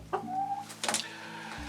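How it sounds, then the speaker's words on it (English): A calm rooster among hens on a homestead gives short clucking calls, two brief bursts close by over a steady low background hum. "The rooster, he's quite a calm little guy."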